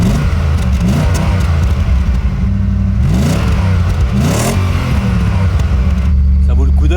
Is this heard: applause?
no